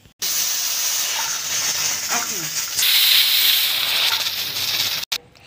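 A stovetop pressure cooker with lentils lets out a loud, steady hiss of steam that runs for about five seconds and cuts off abruptly near the end.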